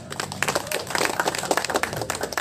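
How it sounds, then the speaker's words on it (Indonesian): A group claps together at a community gathering in Bandung, a steady dense patter of many hands that runs for a couple of seconds at close range. "Tepuk tangan kawan-kawan."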